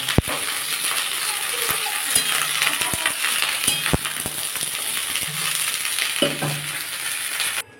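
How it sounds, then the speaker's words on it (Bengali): Broccoli florets lightly frying in hot oil for a Bengali vegetarian broccoli curry, a steady close sizzle punctuated by sharp clicks and scrapes of a spatula stirring against the pan, then stopping abruptly at the end. "আমি এবার বকলিগুলো দিয়ে হালকা করে ভেজে নেব"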